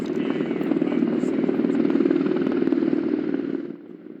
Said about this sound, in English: you're going to see 2 Black Hawk helicopters out of Fort Knox fly over Great American Ballpark before today's game